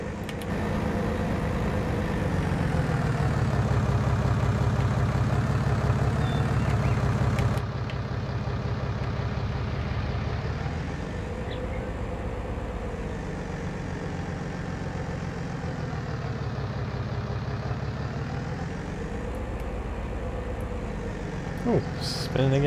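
A tractor engine runs steadily while moving a hay trailer, a loud low drone that rises and falls in pitch with load changes, with voices talking over it.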